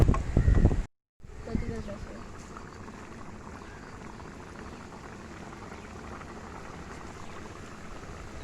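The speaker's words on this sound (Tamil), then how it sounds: "ஸோ நல்லா பாயில் ஆகிட்டுருக்குது" Prawn thokku boils in a pot outdoors, giving a steady, even hiss of bubbling that runs throughout. A loud burst at the start is followed by a brief dropout.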